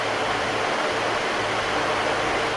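An electric fan running on its high speed gives a loud, steady broadband whoosh of rushing air with no change in pitch, close to the recorder and with no other sound.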